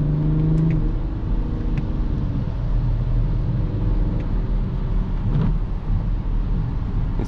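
A BMW X5 E70 3.0 SD diesel engine accelerates in third gear through the city, a loud steady interior rumble with a rising drone and no talking.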